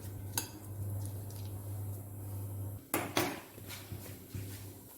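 Gulkand being stirred into chopped onions in a bowl, with a few soft scrapes and clinks of a spoon against the dish over a steady low hum.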